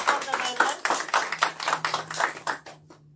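Applause from an audience at a charity fundraising event for children with disabilities: a dense patter of hand claps that swells and eases in waves for about three seconds before thinning out, with a faint steady hum beneath.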